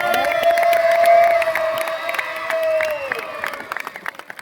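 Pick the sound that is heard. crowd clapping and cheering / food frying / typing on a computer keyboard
crowd clapping and cheering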